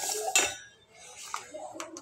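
Roasted fenugreek seeds being scraped and taken out of a pan with a metal spoon, giving a few close clinks and scrapes of utensil against cookware.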